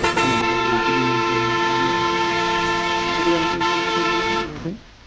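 Horn of a Bangladeshi Hino bus in Bus Simulator Indonesia, a loud, steady multi-tone blare held for about four and a half seconds before cutting off and fading, with no talking.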